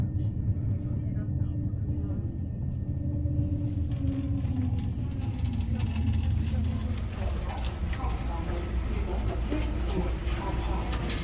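Siemens trains at a German railway station, heard as a steady low rumble of rolling stock and engine drone that swells toward the end, with people talking over it throughout.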